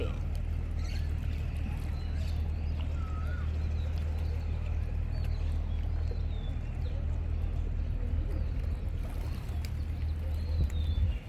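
Boat motoring along a river in Thailand, a steady low engine drone with water rushing past, continuous and close throughout with no pauses.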